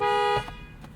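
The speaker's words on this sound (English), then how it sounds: "Do a little honk test." A 2021 Toyota Camry XSE Hybrid's horn blares in one sustained, loud honk lasting under half a second, followed by faint cabin rumble.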